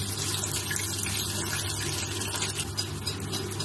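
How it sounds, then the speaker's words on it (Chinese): Battered pork pieces for Northeastern-style crispy fried pork strips refrying in hot oil in a wok, a dense continuous sizzling hiss that holds steady throughout, close up and with no voices. "油温升高复炸"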